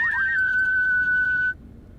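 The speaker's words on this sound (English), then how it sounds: "That whistle's so loud" A loud, shrill whistle from the video game Fallout New Vegas holds one steady pitch for about a second and a half, then cuts off abruptly, with no talk over it.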